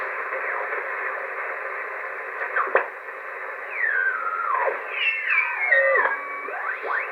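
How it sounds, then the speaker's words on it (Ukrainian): A shortwave radio receiver on air gives a steady hiss and murmur of many faint stations, with whistling tones sliding up and down and a brief click, with no voices over it. "чуєте, як тихенько в мене працює ефір, купа станцій"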